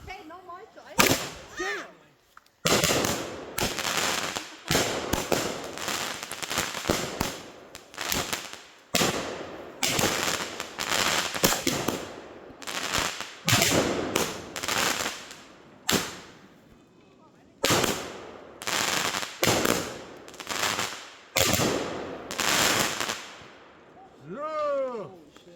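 A fireworks mortar goes off at a July 4th display in a long series of sharp, loud bangs and crackles, some rising whistles among them, with a few shouts from people nearby.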